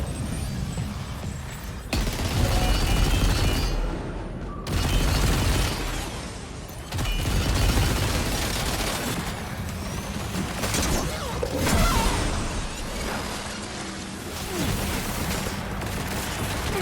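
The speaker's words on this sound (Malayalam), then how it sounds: "heavy machine gun" Heavy machine gun fire in Death Stranding 2 during a fight with ghost mechs, dense loud bursts with booming impacts and blasts, broken by brief pauses, continuing throughout.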